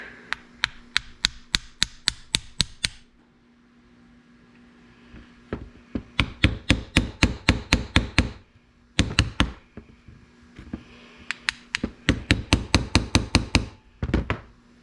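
Rapid metallic hammer blows on a 1982 Honda Urban Express scooter under repair, struck in fast runs of about ten to fifteen hits separated by short pauses, loud and close, with no talking.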